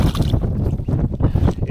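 Strong wind buffets a microphone outdoors at a fishing spot in Finland, a loud rough rumble with gusty surges and flutter that fills the whole stretch, with no voices.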